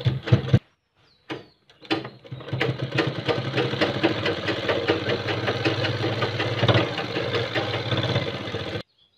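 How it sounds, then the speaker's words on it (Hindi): A sewing machine stitches kurta fabric in a fast, rhythmic run of needle clatter, preceded by a few brief handling knocks and a pause, loud and close with no speech. "अब इसको आप इस पर आप स्टिचिंग कीजिए।"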